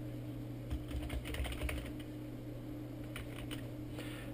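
Someone types a Wi-Fi password on a computer keyboard while setting up a wireless access point, a short run of soft, quiet keystrokes over a steady low room hum.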